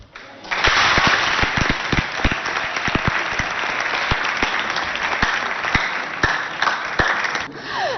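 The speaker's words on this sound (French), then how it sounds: "on applaudit très fort pour accompagner nos amis" Audience at a high school competition in Abéché applauding loudly, a thick continuous burst of clapping with a few sharp individual claps standing out, starting suddenly and sustained to the end.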